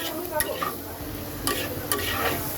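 Bitter gourd with shrimp, turmeric and salt is stirred in a pan over low heat, with a few brief spatula scrapes over a soft, constant frying sizzle.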